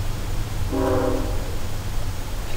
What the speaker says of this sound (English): Oh, train. You might not be able to hear anything for a second.